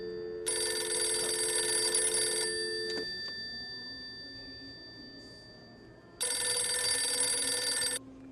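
A telephone rings in two loud, close electronic bursts separated by a few seconds of quiet, each ring a steady bright trill of about two seconds, heard alone before anyone answers.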